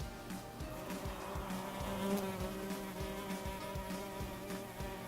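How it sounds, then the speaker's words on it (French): A housefly buzzes continuously nearby, a steady droning whine with small rises and dips as it moves around, heard alone in a quiet room. "Elle était bien là la mouche."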